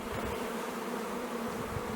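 A strong honeybee colony hums on an open hive frame, a dense, steady buzzing drone filling the space close by with no talk over it.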